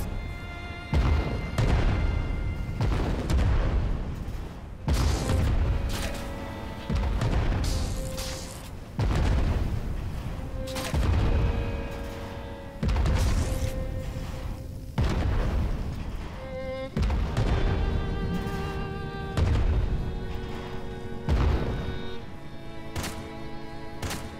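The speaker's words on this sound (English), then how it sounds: "Are you shooting your own ship now?" Ship cannons fire in the airship video game Worlds Adrift, a steady run of heavy booming blasts roughly every second or two, loud and close, with no talk over them.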